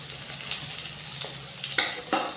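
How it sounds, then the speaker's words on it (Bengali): Whole spices, cardamom, cinnamon and cloves, frying in hot oil in a pan, giving a steady close sizzle with a few brief louder scraping stirs near the end; no one talks. "এলাচ, দারচিনি, লবঙ্গটা একটু ভাজা ভাজা হয়ে গেলে"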